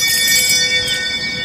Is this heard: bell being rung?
yes